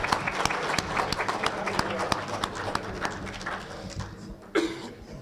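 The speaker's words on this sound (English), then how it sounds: "please give him a big round of applause" An audience applauds a ringman contestant at an auctioneers and ringmen championship, moderate clapping under a speaking announcer, thinning out toward the end.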